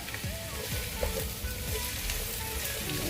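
Mushrooms and capsicum sizzle steadily in a hot pan for pasta, with scraping stirs of a spoon through the vegetables, a close, continuous frying hiss with no talking.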